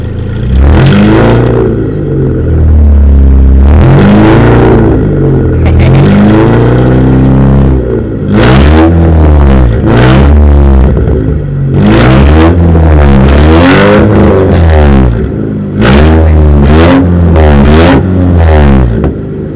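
A car engine fitted with a water-hose and bamboo exhaust is blipped repeatedly, a series of loud, close revs rising and falling in quick bursts with short pauses between, no talking.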